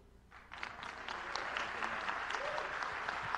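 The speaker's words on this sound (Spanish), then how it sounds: "Aplauso cálido." Warm applause from an audience at a Dominican Republic country-brand launch event in the United States. The clapping swells after a brief quiet start and holds as a dense, steady ovation.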